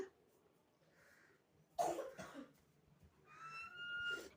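A single close, sharp cough breaks a quiet room, followed by a softer throat sound and faint whistly tones afterward.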